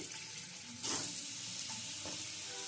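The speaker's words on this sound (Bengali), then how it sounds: "এবারে ভেজে নেব আলু" Potatoes frying in oil in a home kitchen pan, a steady broadband sizzle with a brief louder burst as they hit the fat, continuing alone without talk.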